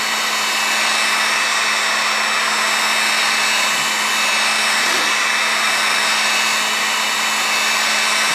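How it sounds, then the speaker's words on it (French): A heat gun blows hot air onto tinted window film on an Audi, a loud, constant whirring rush with a steady motor hum that runs unbroken throughout, close up and without talking. "Un petit peu d'énergie, un pistolet à air chaud et ça fait l'affaire."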